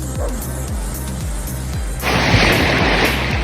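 Stormy Black Sea surf at a beach breaks in a low rhythmic wash, with a sudden louder hiss of churning water midway, close and fairly loud.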